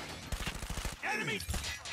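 A sentry gun in COD Mobile firing a rapid, steady burst of automatic shots for the first second, followed by more scattered gunfire, with some voice chatter mixed in.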